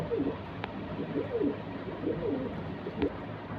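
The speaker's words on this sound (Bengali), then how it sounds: "খুব সুন্দর ছাড়াছাড়ি ব্ল্যাক লাইনের কবুতর" Pigeons cooing in soft, low repeated phrases, several calls spaced through the clip, with a couple of faint clicks in the background.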